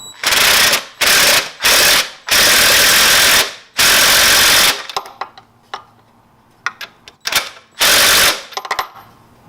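Impact wrench tightening the belt adjustment on a Jeep Cherokee engine, loud rattling bursts of hammering in several runs, then shorter clicks and blips as the tool is repositioned.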